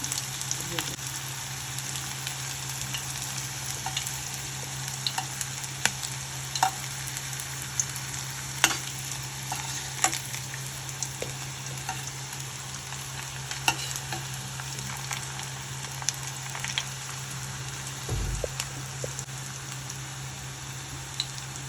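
Onion rings deep-fry in hot oil with a steady, bubbling sizzle and scattered sharp crackles, continuing close and evenly for over twenty seconds with no talk.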